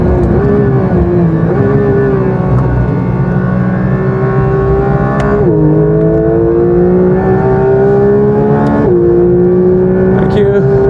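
A Porsche GT3 race car flat out on a bumpy track near 167 mph, its engine howling loud and close for the whole stretch, with quick upshifts breaking the rising pitch twice.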